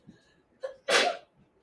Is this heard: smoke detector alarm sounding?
no